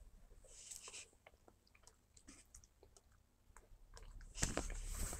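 Soft, close chewing from a livestreamed eating show: faint wet smacks and small crunchy clicks scattered unevenly, with no one speaking.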